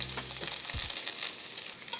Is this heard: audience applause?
no